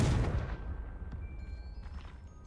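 Confringo blasting spell cast in Hogwarts Legacy, a burst at the start that rumbles and decays over a couple of seconds, with faint tonal game ambience lingering behind it.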